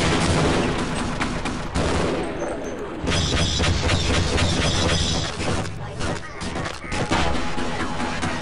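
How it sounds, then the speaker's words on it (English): Rapid gunfire in the game Half-Life, loud dense bursts of shots with crashing impacts and shattering, nearly continuous and close, with a voice speaking over the action. "I took so many goddamn shots, it was ridiculous"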